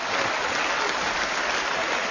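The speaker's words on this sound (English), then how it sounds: "That's the first time I've ever received such applause" Sustained, dense applause from a crowd filling a parliament chamber, loud and even throughout with no pauses, heard without speech.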